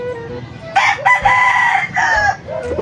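A newly arrived rooster crows in a chicken coop, one loud, close cock-a-doodle-doo call rising and holding for about two seconds, with a brief break partway through, over light background noise.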